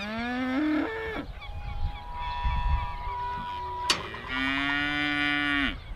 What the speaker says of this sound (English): We've come into a paddock where you've got some of your cows